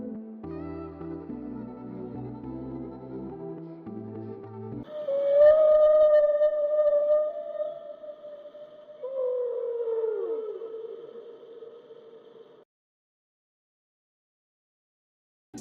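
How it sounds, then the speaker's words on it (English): A whale's long tonal calls sustained and sliding in pitch, with moaning harmonics that waver and bend downward, heard alone after a brief stretch of playful music and fading into silence. "This is a whale."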